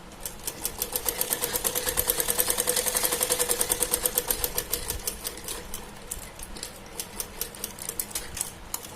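A sewing machine stitches a child's summer dress for a Laddu Gopal idol, its needle chattering in a fast, steady run of clicks that swells louder mid-run and then eases off, alone and close.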